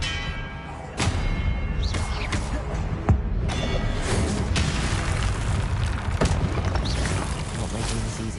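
A loud, dense spell blast in the video game Hogwarts Legacy as the Expelliarmus disarming charm is cast, with booming impacts and a sudden thump within a continuous roaring wash of combat effects.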